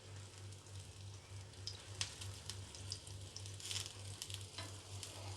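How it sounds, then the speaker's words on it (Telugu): Bobbatlu flatbread roasting in ghee on a pan gives a soft, continuous sizzle and crackle, quiet and close, with a low steady pulsing hum underneath. "ఇలా నెయ్యి వేసుకుంటూ అటు ఇటు తిప్పుకొని కాల్చుకోవాలి"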